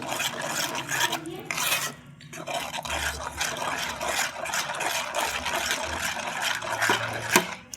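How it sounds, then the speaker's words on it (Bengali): Flour is worked into date-palm jaggery for pitha, producing repeated gritty rubbing and scraping strokes in a steady rhythm, close up. "এই গুড়ের সঙ্গে আটাটাকে ভালো করে মিক্স করে নেব।"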